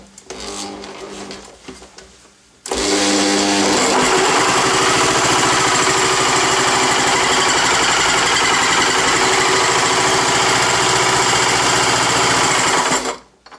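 An old Lawn Boy 21-inch lawn mower engine turns over and runs in a loud, steady rattling drone for about ten seconds before cutting off, after a quieter stretch of fumbling at the start.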